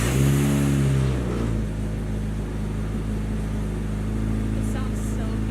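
A car engine swapped from a KA24DE to an SR20DET, fitted with a custom exhaust, runs loud and close with a steady low rumble that drops slightly in pitch after the first second, with no talk over it.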